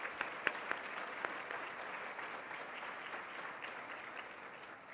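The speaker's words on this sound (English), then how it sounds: "Let's give her a round of applause as well." Applause from a business luncheon audience at The Executives' Club of Chicago, a soft, even patter of many hands, with a few sharper individual claps standing out early.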